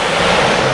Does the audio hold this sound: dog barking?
no